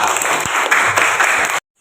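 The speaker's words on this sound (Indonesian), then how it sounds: "tepuk tangan buat dia" A classroom of students claps for a classmate in a brief burst of dense applause lasting about a second and a half before stopping sharply.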